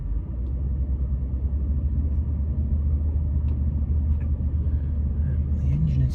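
A Bentley Turbo R with a turbocharged 6.75-litre V8 backs up slowly off a main road on a cold morning, producing a steady deep low engine rumble heard from inside the car.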